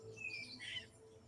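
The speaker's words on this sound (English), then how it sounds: "you're listening to the birds and the monkeys" Faint jungle birds squawk and chirp in a couple of short, high bursts, distant and soft over low ambient hum near the coast of Drakes Bay, Costa Rica.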